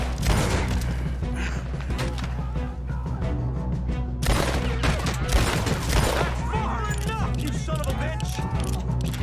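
Shotgun fire in Red Dead Redemption 2 during a distant firefight, with loud, dense shots booming one after another over continuous game noise.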